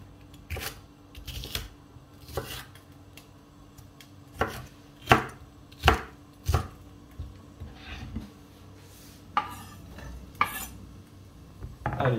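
A knife dices bell pepper into small cubes on a cutting board for a Tex-Mex chicken panini, with about a dozen separate, sharp thuds at an irregular pace, close and clear in a quiet kitchen.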